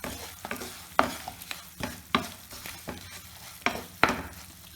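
Jaggery melts in hot ghee on low heat for til-gud laddoos while a spoon stirs it, making a soft sizzle broken by sharp scraping strokes about once a second.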